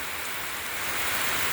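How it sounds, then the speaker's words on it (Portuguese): Heavy rain pours down on a street in a dense, steady hiss with no pauses, loud and close. "E a chuva tá caindo."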